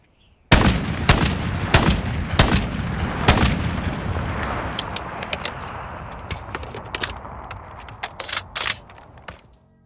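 Rapid gunfire from the Ritex weapon in Call of Duty Vanguard, a string of sharp, loud shots in uneven bursts with a ringing tail behind them, alone with no talk.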